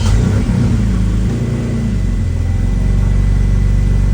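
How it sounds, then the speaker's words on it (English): A 2016-2023 Toyota Tacoma engine cranks and catches, a loud close rumble that briefly revs and then settles into a steady low idle. "Let's go ahead and start the vehicle and see if we can get that reverse camera going."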